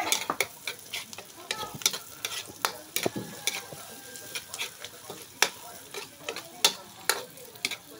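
Jackfruit stirred and fried in a pan, with steady sizzling broken by frequent sharp scrapes and taps of a utensil against the pan, close and fairly loud, with no talk over it.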